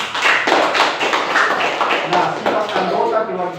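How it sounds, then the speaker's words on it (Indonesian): Children clap together in a classroom for a student, the claps loose and uneven in rhythm, with voices talking over them as the clapping fades out. "Tepuk tangan buat Sinorin."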